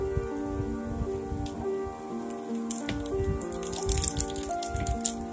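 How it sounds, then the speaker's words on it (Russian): Rain mixed with small hail falling outdoors after a thunderstorm in Arad, Israel, a steady dense patter of drops and pellets on surfaces, fairly close, with scattered sharper taps and no talk. "О, это даже град такой."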